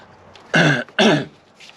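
Two sharp, close coughs in quick succession, each a harsh burst, followed by quiet.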